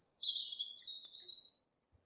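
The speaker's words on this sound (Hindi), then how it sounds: "ये है मैगपाई।" A magpie gives a bright, high, chirping call in a few quick phrases that then fall silent, clear against a quiet background.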